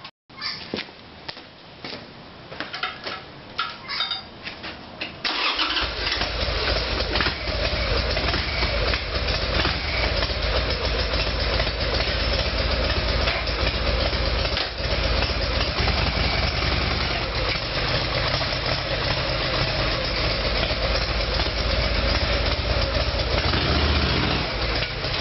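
A Harley-Davidson Sportster motorcycle engine with new spark plugs cranks and catches after a few seconds of uneven sputtering, then settles into a loud, steady, close idle.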